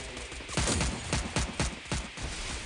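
A rapid burst of gunshots in the video game Free Fire, several sharp cracks in quick succession, fairly faint against a steady noisy background.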